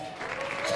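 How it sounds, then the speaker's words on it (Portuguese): Brief burst of audience applause at a live rock concert in a club, dense clapping that swells over less than a second. "Palmas pra ele"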